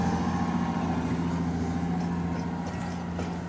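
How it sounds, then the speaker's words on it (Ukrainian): New Holland T8.410 tractor pulling a Lemken Karat 10 cultivator through dry, heavy soil, its engine giving a steady, droning hum at an even load, moderately loud and continuous without talk. "Зараз ще послухаємо, як працює мотор в загонці."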